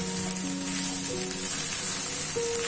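Chicken spring roll filling sizzles steadily in a hot pan while being stirred, a continuous bright frying hiss with faint tonal hum beneath.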